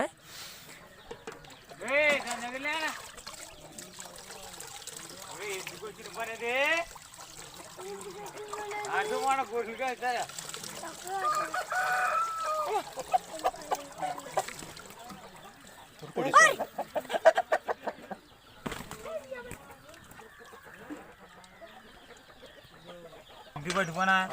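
Fighting roosters cluck and make low throaty sounds close by, with someone talking over them throughout and some trickling water and rustling in between.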